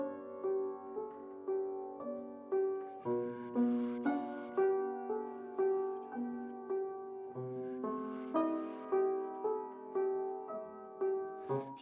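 A piano plays a slow Beethoven Adagio from Piano Sonata No. 3 with the sustain pedal held, so each evenly paced chord rings on and blends into the next, warm and resonant, with no talking.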